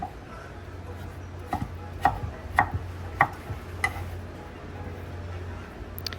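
A knife chops mango against a cutting board in about seven sharp, irregular knocks over a quiet low background hum.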